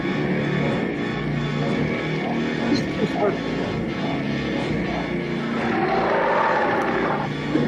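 Helicopter in a horror movie, a steady loud rotor and engine drone running throughout, with film dialogue and effects mixed over it.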